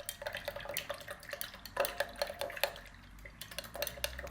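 Chalk is stirred into woad indigo extraction liquid in a container, giving a quiet, rapid series of clinks and taps against the vessel with faint liquid swirling, near but low in level.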